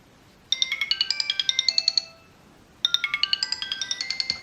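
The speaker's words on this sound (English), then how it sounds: "This one has its own spin on the classic Sony Ericsson ringtone." A bright electronic remix of the classic Sony Ericsson ringtone plays from a Sony Ericsson W910i, a quick, bouncy melody of repeated tones that stops briefly, then starts again.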